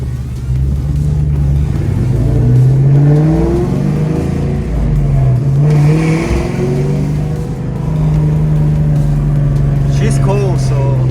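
A 2004 Mustang GT engine rumbles and revs up and down in deep, loud surges, with someone talking over the exhaust note.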